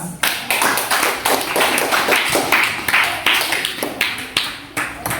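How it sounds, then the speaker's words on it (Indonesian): Classroom of students clapping hands together in rhythmic unison, sharp regular claps in a steady beat that repeats through the whole stretch, fairly close and loud. "tepuk tangan untuk ketua kelas"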